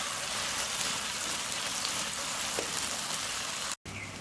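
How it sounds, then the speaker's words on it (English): Onion sizzles loudly in hot oil in a wok, a dense, steady crackling hiss, cut by a brief dropout near the end, with no talking. "Add oil into the wok, let it heat up. Add onion."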